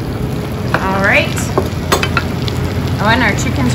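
Chicken pieces frying in a pan for a Dutch recipe, a steady close sizzle running throughout with a few brief higher chirps and clinks on top, no talk.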